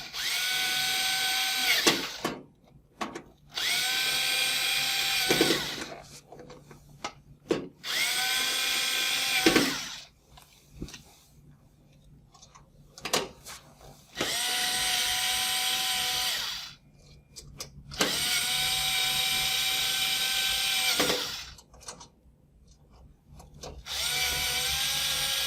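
A power drill drives screws into relay terminal blocks in repeated whirring bursts of a few seconds each, separated by short pauses and small clicks, loud and close with no talk.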